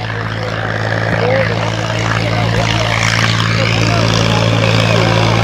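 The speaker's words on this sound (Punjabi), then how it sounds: "240 ਟਰੈਕਟਰ ਲੇਦਰ ਨੂੰ ਭਜਾਈ ਜਾ ਰਿਹਾ" A 240 tractor engine pulls a laser land leveler in a field, its steady, loud droning hum running continuously and close throughout without pause.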